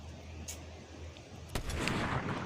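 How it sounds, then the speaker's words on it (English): Gunshots in the Fortnite video game: a faint, distant crack around midway followed by a louder, sharp shot with a lingering rumbling tail, no voices. "Like you saw that shot right there"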